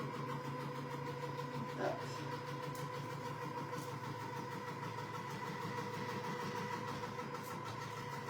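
A Robot All Cook food processor motor runs at speed 7 with a steady, continuous whirring hum at moderate volume, and a single short word is spoken partway through.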